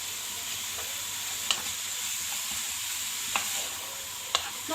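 Minced meat and onions fry in a pan over a steady, close sizzling hiss, with a few sharp scrapes and taps as they are stirred, no talking.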